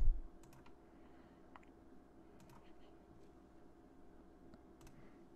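Faint, sharp computer mouse clicks come in small clusters against a low, quiet room hum, including a quick double click. No one speaks.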